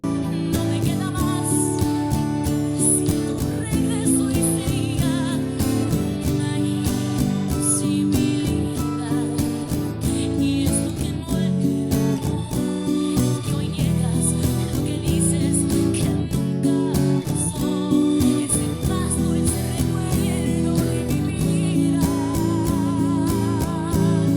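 Steady rhythmic strumming of chords on an acoustic guitar, bright and continuous, with the chord pattern repeating throughout and no voices.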